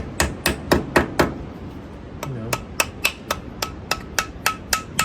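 A hammer taps bolts on stamped sheet-steel flanges in a run of sharp metallic knocks, five quick strikes followed by a brief pause and then a steady series of about ten evenly spaced taps, close and clear.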